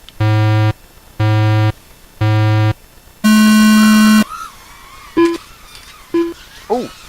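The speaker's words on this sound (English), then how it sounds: "I will give you those beeps." Three identical low beeps sound at even one-second intervals, then a longer, higher tone sets off the start of a memorial race, followed by a burst of scattered game sounds and short blips.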